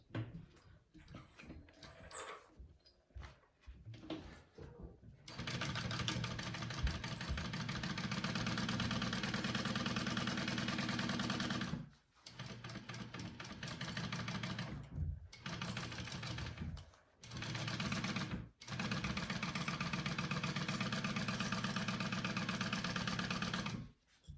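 Sewing machine basting down the sides of a hobo bag, running in long steady loud bursts with several brief stops and restarts, a little handling noise before it starts.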